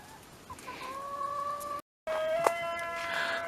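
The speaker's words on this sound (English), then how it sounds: "watching me let my chickens out" Chickens cluck and call in a rising, drawn-out squawk as they are let out into a food forest, near and fairly clear, with a short gap midway.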